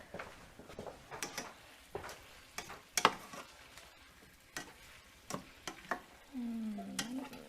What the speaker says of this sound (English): I'm going to put that down as I'm heating up my stir fry